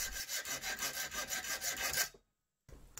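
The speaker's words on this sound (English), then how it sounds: "Cut it off using the hacksaw." A hacksaw cuts through wire in steady back-and-forth rasping strokes, about a dozen quick rhythmic passes, close and fairly loud, ending abruptly before a short silence and faint handling noise.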